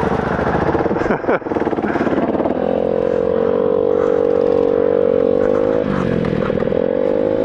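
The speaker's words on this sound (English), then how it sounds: "Rex has got the DR and fucking sand pit" A Suzuki DR dirt bike revs loudly and steadily through a sand pit, its engine note holding and then shifting pitch, with a brief clatter early on.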